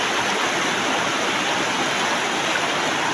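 A river rushing steadily where people wade across, a loud, close, unbroken wash of flowing water with no other sounds standing out.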